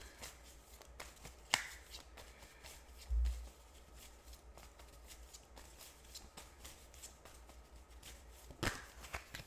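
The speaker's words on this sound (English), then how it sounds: "We're going to pull out some cards on your energy." Tarot cards being shuffled for a pick-a-pile reading: soft, brief riffling bursts spaced apart over a quiet room background, close and fairly faint.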